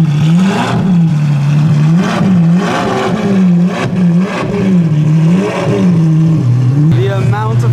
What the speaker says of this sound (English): I can hear something loud. Here it is. This is the Apollo IE.